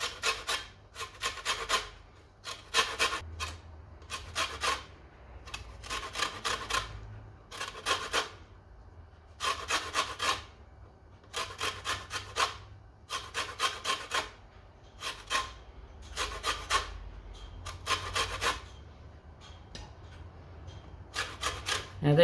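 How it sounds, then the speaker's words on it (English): Two homegrown, unwaxed, unsprayed lemons are zested on a grater, giving bursts of close, dry rasping strokes in quick repeated groups, with short pauses between the groups. "So we need to zest the 2 lemons."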